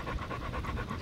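A dog pants rapidly and rhythmically up close, a quick steady series of breathy huffs with no talking.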